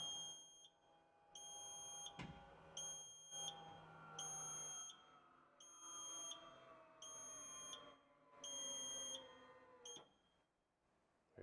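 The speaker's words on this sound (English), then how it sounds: "when I press this, it'll be loud beeping, and then you'll hear the e-brake go" A vehicle's electric parking brake switch sets off a loud, evenly pulsed high beeping, about eight steady tones in a row, over a low mechanical whir as the e-brake engages.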